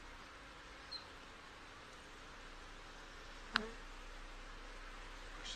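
Honey bees crowded into a small nuc hive give off a faint, steady insect hum under soft background hiss, with one brief sharp knock partway through.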